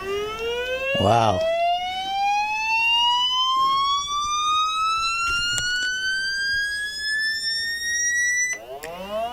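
A small piezo speaker plays a rising tone sweeping from about 100 Hz up to 2 kHz, a steady climbing whine with strong harmonics running for several seconds; a brief exclamation is heard near the start.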